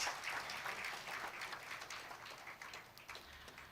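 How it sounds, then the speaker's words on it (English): Applause at an engineering college award ceremony as a student's semester grade is announced: dense, sustained clapping from a crowd, steady and moderately loud, tapering slightly toward the end, with no speech over it. "I think the clap should be a little louder now"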